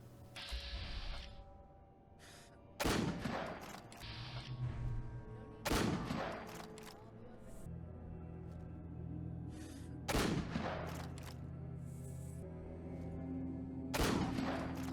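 Gunshots ring out in Fallout 4 while raiders are picked off, several loud, sharp reports spaced a few seconds apart over a low ambient game drone, with no talking.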